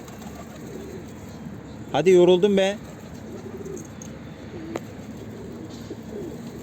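A back-crested tumbler pigeon from Mardin gives one short, close, throaty coo burst midway through. Before and after it the background is quiet, and someone speaks briefly.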